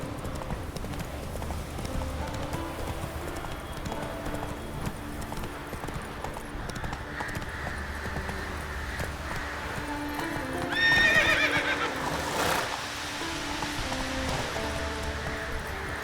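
Roach, the horse in The Witcher 3 video game, galloping with steady rhythmic hoof clip-clops and occasional whinnies over game music, with a louder burst of activity near the end.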